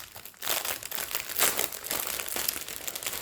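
Thick zip-lock plastic bag of diamond painting rhinestones being pulled open and handled, giving continuous loud crinkling and crackling close up, with brief sharper bursts, no voices.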